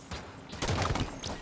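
Gunfire in the video game Halo 5, a quick burst of shots heard faintly at moderate distance with no speech over it.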